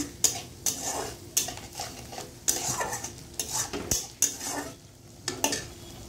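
Poppy seed paste is stir-fried in a pan, with repeated scraping and clinking strokes of a spatula against the metal in an irregular rhythm, close and fairly loud over a faint background sizzle.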